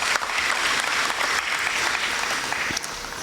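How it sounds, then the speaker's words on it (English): Steady, dense applause from a large audience at a school prize giving day, sustained evenly and loudly throughout with no talk over it. "Ladies and gentlemen, a round of applause."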